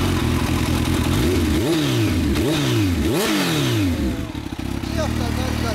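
A 2016 Kawasaki Ninja H2 motorcycle engine revs up close and loud, with several sharp rising-and-falling throttle blips over a steady idle, while a voice speaks in the background.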